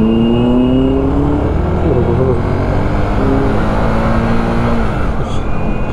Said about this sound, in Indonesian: Lihat balapan angkot.